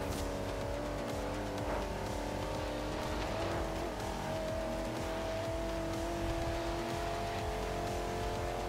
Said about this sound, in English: People like Kieran struggle to drive the car with two hands